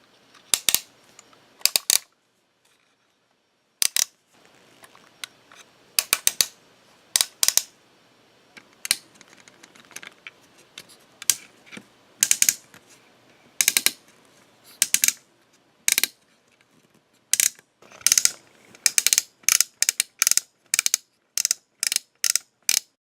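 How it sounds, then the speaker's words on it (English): Clicker mechanism of a 1974 Mattel Heroes in Action plastic toy Jeep, producing sharp ratcheting clicks in short irregular bursts, loud and close, with no talk. "Now let's take a look at the Jeep and its clicker."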